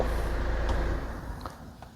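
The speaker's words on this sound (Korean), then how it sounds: "자 시동 껐습니다" A Kia All New Carnival high limousine engine is switched off: a low idling rumble runs for about a second, then drops away, leaving a quiet cabin with a few faint clicks.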